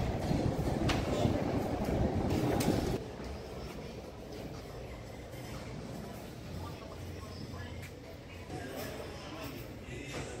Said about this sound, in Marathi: ट्रेन आली माझी.